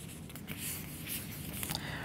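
An eraser wipes writing off a board in a few soft, broadband swishes and rubs lasting about two seconds, fairly quiet and close, with no speech.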